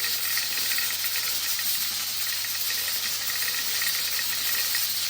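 Steady, loud hiss of steam escaping from a pressure cooker whistle while cooking lentils runs unbroken throughout, with no voices.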